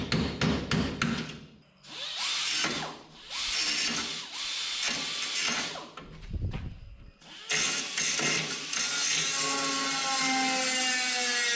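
A power drill whirs through metal on a 1961 Chevrolet wagon, with several short bursts and then longer runs that stop and start, loud and close with no talk.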